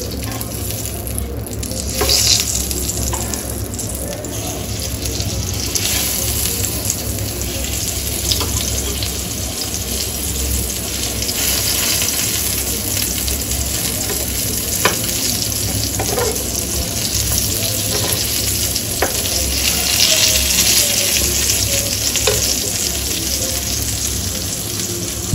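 Eggplant slices frying in a pan, a steady loud sizzle with occasional stirring and utensil clinks close by.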